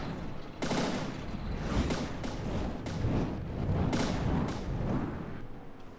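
Rapid bursts from an anti-missile gun in the naval combat game From the Depths, a loud, continuous stream of overlapping shots broken by sharp, heavier blasts roughly every half second, with no talk over the gunfire.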